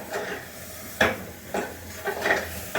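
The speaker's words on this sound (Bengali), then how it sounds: "আলুটা দিয়ে একটুখানি কষিয়ে নিচ্ছি।" Four potatoes being sautéed in a pan, with distinct scraping stirs of the spoon every half second or so over a steady background sizzle, close and fairly loud.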